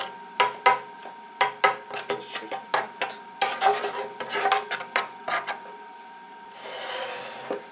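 Ingredients for Borodinsky rye bread being mixed in a bowl, a series of close, sharp scraping and tapping strokes at an uneven rhythm, then a softer rubbing swish at the end, no speech.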